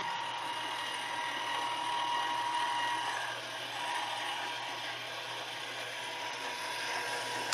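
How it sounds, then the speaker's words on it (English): A pasta machine with its rollers set at their widest runs as fresh pasta dough is fed through, a steady whirring, ratcheting mechanical drone up close with no talking. "I've got the rollers set as wide apart as they can go. And what I would like to do is feed this dough through."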